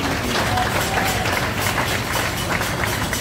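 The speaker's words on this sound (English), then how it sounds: "Give the Vases a round of applause" A crowd at a ground breaking ceremony applauds the Vases, steady dense clapping throughout, fairly loud and continuous.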